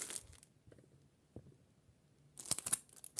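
A paper sticker is peeled away in soft, faint crinkles and small ticks, ending in a louder burst of sharp tearing and rustling up close.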